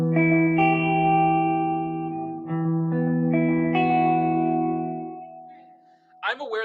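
Telecaster electric guitar with a Seymour Duncan Quarter Pounder in the middle pickup position plays sustained, ringing notes and chords with reverb and a slight chorus shimmer, ending in a quick scrape.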